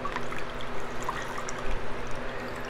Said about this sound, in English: So I wash my face twice when I'm wearing makeup.